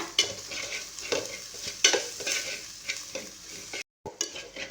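Onion and masala spices, turmeric and garam masala, fry in a pan while being stirred, a steady sizzle broken by repeated scraping strokes and a short silent gap near the end; no voices.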